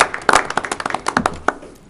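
Brief round of applause from attendees at a Post Falls Urban Renewal Agency council meeting, a small group clapping in quick irregular bursts close by, tapering off within two seconds.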